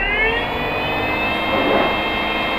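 A 1000W 48V electric mini car motor accelerating, a steady high-pitched whine climbing slightly in pitch, continuous and moderately loud with faint background noise.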